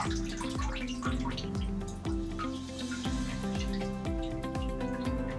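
Water dripping from a kayak paddle shaft after a WD-40 treatment, a steady series of close, distinct plops falling roughly twice a second, over a faint background of trickling and ringing tones.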